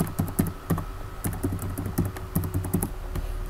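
A password being typed on a computer keyboard while a Zentyal 3.5 domain user is set up, with a quick run of crisp, close key taps in uneven bursts and no talking.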